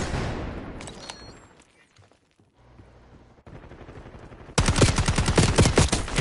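Rapid automatic gunfire from a Black Ops 6 multiplayer match, loud bursts that open the clip, fade into a quieter lull, then return as a dense, sustained volley near the end.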